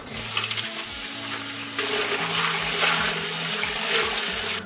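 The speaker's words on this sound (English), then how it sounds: "and then we can put some cold water on it." Steady rushing of cold water running from a tap onto ice, continuous and close, with some splashing and clinking underneath.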